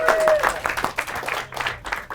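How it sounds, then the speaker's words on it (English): An audience at a live stage show claps for Melissa, a short round of applause that is fairly soft and thins out, with a voice speaking over part of it. "A round of applause for Melissa."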